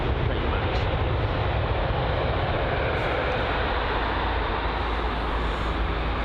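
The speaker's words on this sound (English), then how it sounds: "So the Lufthansa A320 NEO's pushback." A Lufthansa A320neo airliner pushing back at London Heathrow, with a loud, steady jet engine roar that stays constant throughout and drowns out other sounds.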